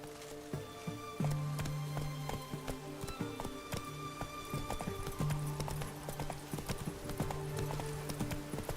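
A horse gallops in The Witcher 3: Blood and Wine, with rhythmic close hoofbeats pounding steadily throughout over a faint game ambience and short tonal sounds, no clear speech.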